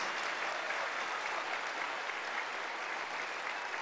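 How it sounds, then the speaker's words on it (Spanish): A large crowd applauds migrant workers at a Mexican political address, a steady, even roar of many hands clapping together, moderately loud and sustained without a break. "Un aplauso a nuestros paisanos, a los trabajadores migrantes."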